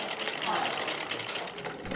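A sewing machine stitching cloth masks at a small business in Jammu during the COVID-19 lockdown runs with a fast, continuous mechanical whir and rapid needle chatter. It is close and steady, with a voice faintly present underneath.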